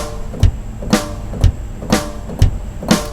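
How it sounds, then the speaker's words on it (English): A simple drum pattern plays at a steady mid tempo, alternating low kick thumps and sharp snare hits with no other instruments. "but the drums sound like this"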